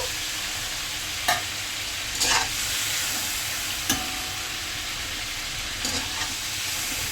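Chicken pieces fry lightly in oil in a pan, a loud dense sizzle throughout with a handful of sharp spatula strokes as they are stirred.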